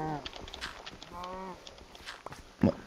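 A cow moos in the game Minecraft, drawn-out pixel-game lowing heard twice, with a short thump near the end and faint voices in the background.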